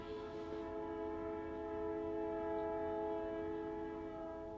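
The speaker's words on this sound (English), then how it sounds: "Oh, it's a train. Okay, there's a train going by, okay?" A train goes by on nearby railroad tracks, its horn sounding in one long, steady blast that holds throughout at moderate, slightly distant loudness with no talking.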